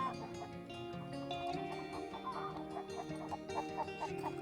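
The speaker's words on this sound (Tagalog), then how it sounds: "Merong manok pa." A chicken clucks repeatedly beside a rural house in Imparayan, Sibalom, Antique, a soft, steady run of calls over a low background hum, with no talking.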